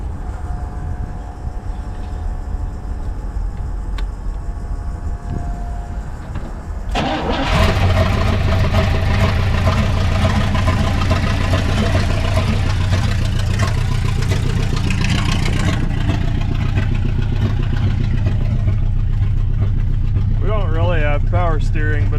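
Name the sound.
1960 Pontiac Ventura engine running with a slight burble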